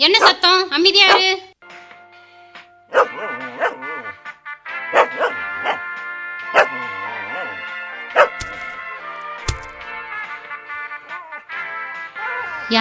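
Tommy the dog barking in a series of sharp, close yaps and whimpers spread across the scene, with people talking over and between the barks.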